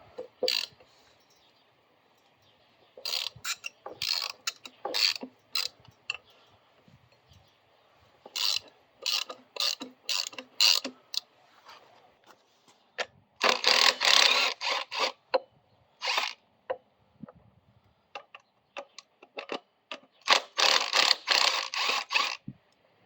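Ratchet wrench clicking while loosening the brake caliper bolts on the front suspension of a Coleman B200RSV, in irregular bursts of fast close ratcheting with short pauses between strokes and no talk.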